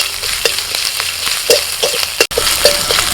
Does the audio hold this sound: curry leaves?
yes